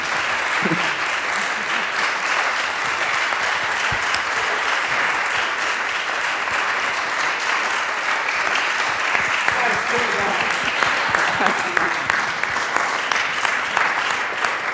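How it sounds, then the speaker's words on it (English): Dense, steady audience applause for a presenting team at a live event, a continuous loud roar of many hands clapping that holds evenly for the whole stretch with no talk over it. "huge round of applause from us."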